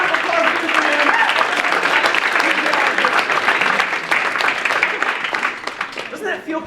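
A crowd at a leadership talk applauds steadily and loudly, a dense wash of clapping that holds for several seconds with scattered cheers and voices mixed in.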